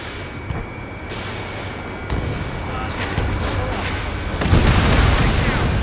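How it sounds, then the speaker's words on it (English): Missile explosions in the combat flight game Ace Combat 7, several deep booms and bursts over a constant jet engine roar, with a radio voice talking intermittently. "Missile fired."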